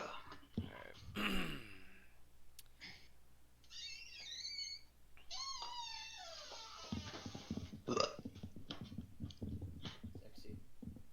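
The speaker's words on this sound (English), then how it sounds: "you got two options when you burp on mic" A deep burp rumbles into a microphone near the start. It is followed by whistly vocal noises, clicks and chatter from people in an online game session.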